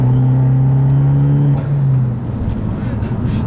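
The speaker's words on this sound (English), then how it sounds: "you can play this engine like a musical instrument with just all the different noises" A 2013 Fiat 500 Abarth with a manual gearbox drones loudly from the cabin while driving, its engine note holding a steady pitch and then dropping as revs fall, followed by rougher road and engine rumble.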